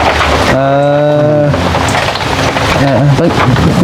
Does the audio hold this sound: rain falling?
yes